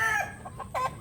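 Roosters and pullets on a backyard farm cluck and crow softly, a few short throaty calls spaced apart at a moderate distance, with no talk.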